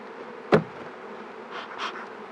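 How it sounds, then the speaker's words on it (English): Honeybees buzzing while hives are moved and nurse bees are shaken back onto frames, a steady close drone with one sharp knock and a few swells as the swarm rises and settles. "Those are all nurse bees, so we want to dump them back in there with the frames we took out."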